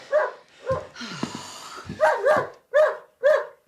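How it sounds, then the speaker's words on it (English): A dog with a shoe fetish barks in sharp, close, loud yaps, roughly six of them spaced irregularly, mixed with a whiny growl in the middle, with no voices over them. "A lunatic dog with a shoe fetish."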